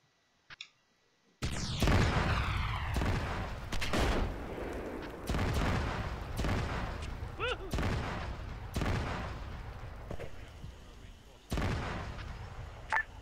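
Arma 3 combat after a brief quiet opening: a loud explosive blast erupts, followed by a series of sharp, heavy gunshots and booms spaced a second or two apart, each ringing out and decaying, close and powerful.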